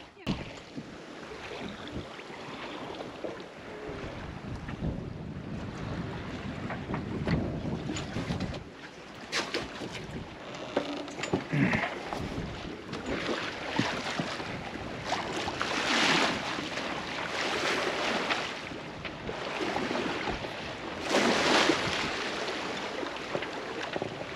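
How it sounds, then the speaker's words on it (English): Sailboat under way on the open ocean at night just after sunset, with continuous wind buffeting and rushing water along the hull, steady and fairly loud, with brief voices in the background. "we're sailing through the night"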